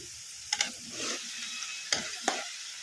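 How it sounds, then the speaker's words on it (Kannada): Cashews fry in oil in a pan over a medium flame, giving a soft steady sizzle. A few sharp clicks and scrapes come from stirring, and the sound is quiet and close with no talk. "ಈಗ ಇವನ್ನ ಗೋಲ್ಡನ್ ಬ್ರೌನ್ ಕಲರ್ ಬರೋವರೆಗೂ ಫ್ರೈ ಮಾಡ್ಕೊಂಬಿಡೋಣ ಮೀಡಿಯಂ ಫ್ಲೇಮಲ್ಲಿ"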